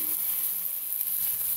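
Bacon-wrapped meatloaf patties cooking in a pan, a steady bright hiss of sizzling fat, close and even, with no voices.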